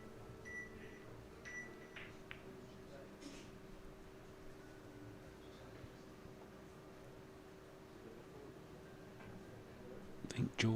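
A snooker shot clock gives a few short, faint electronic beeps over a steady low hum in a quiet match room.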